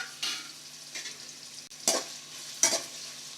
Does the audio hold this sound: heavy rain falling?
no